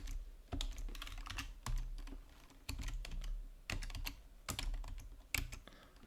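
Keystrokes on a computer keyboard entering Python code, arriving as quick bursts of close, crisp clicks separated by short pauses, with no voices.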